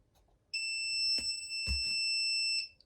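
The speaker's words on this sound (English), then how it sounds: "Sorry about that beeping, I know it's annoying." A high electronic beep holds steady for about two seconds, with a couple of soft knocks underneath, then cuts off.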